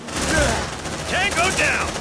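Rapid gunfire from squad weapons in the video game Aliens: Dark Descent, loud and continuous under shouted voices, with dense bursts and whining sweeps layered over the shots.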